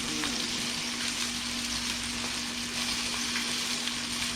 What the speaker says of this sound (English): I'm gonna go ahead and add our butter here.